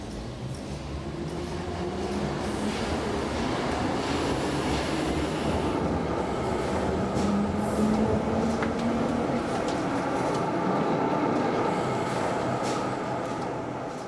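A crowded subway train runs along the track, giving a continuous low rumble and rattle with faint squeals rising and falling, steady and moderately loud throughout.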